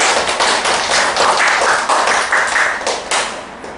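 Audience applause at a Korean lecture-style talk, a dense, steady patter of many hands clapping at close range for nearly four seconds, with no talking over it.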